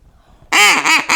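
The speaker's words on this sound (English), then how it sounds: "You take the duck call and you call them and you shoot them." A duck call blown hard, loud quacking blasts in a quick series of three after a short quiet lead-in, each note wavering and harsh like an excited duck.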